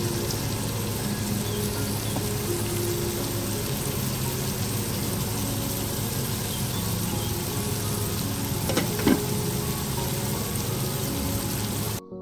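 Onions and canned tuna frying in oil in a pan, a steady broadband sizzle that holds at an even level throughout, with a faint clink near the end.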